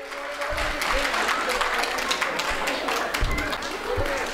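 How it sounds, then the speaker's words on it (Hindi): An outdoor crowd of parents claps at a school annual function for children winning sports races, a loose, moderate patter of applause with a voice over the loudspeaker and general murmur underneath. "अभिभावक तालियों से बच्चों का हौसला बढ़ाएं"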